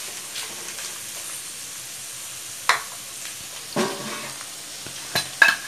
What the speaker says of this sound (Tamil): வதங்கட்டும், ஃப்ளேம் சிம்மிலே இருக்கட்டும்.